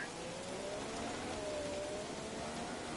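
Steady rain hisses during a race in F1 2017, a constant even wash of noise with a faint engine tone running underneath.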